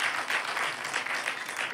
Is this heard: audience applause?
yes